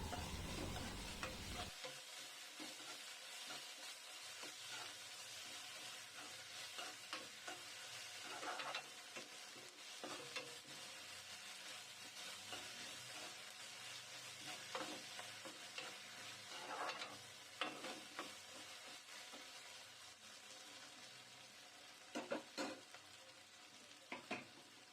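Ginger garlic paste fries in a pan for kushka biryani rice, giving a steady, fairly quiet sizzle that runs the whole time, with occasional scraping stirs and light utensil taps.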